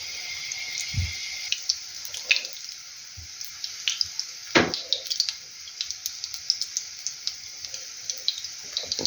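Kefir pancake batter with fresh cherries fries in oil in a pan, giving a continuous high sizzle broken by sharp pops and crackles, with a few soft utensil knocks.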